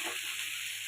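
Shrimp dropped into hot oil over softened fried onions, giving a steady bright sizzle and hiss that holds evenly throughout, fairly close and without talk.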